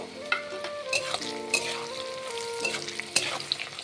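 Cashews and raisins fry for wedding-style Bengali fried rice, a steady close sizzle with sharp scraping stirs and clinks of a spatula against the pan running throughout.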